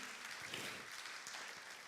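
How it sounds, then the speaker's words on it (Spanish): Church congregation applauding during a bilingual Spanish and Portuguese service, a brief, soft, distant wash of clapping with no clear individual claps. "Jesus, fuerte aplauso."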